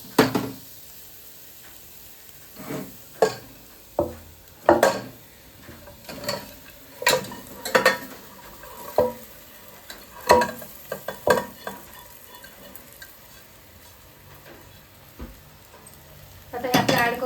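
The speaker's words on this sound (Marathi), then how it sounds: "त्याला पूर्णपणे अद्रक लसूणची पेस्ट जी आहे ती वर खाली करून कोट करून घ्यायची" Roasted mutton being stirred with ginger garlic paste inside a pressure cooker, a low sizzle broken by irregular scraping and clanking of a spoon against the metal pot, close up.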